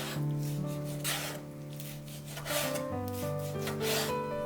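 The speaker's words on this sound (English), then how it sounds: "Cut the beef in thin slices." A knife slices beef into thin strips on a cutting board, giving a run of close, rasping strokes under steady background music.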